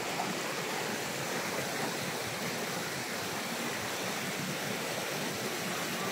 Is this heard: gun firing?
no